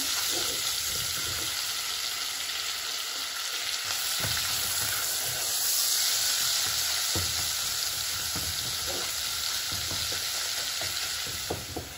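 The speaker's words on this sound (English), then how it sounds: "Using the same oil, I'm going to fry that mincemeat." Mincemeat fries in reused oil, a steady close sizzle and crackle running throughout, with occasional spatula stirs and scrapes breaking through the hiss.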